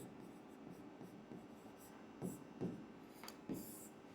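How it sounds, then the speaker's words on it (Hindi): A pen writes a heading by hand on paper with soft scratchy strokes, faint and close, ending in a few brisker marks. "तो यहां लिखेंगे सत्यता की जांच"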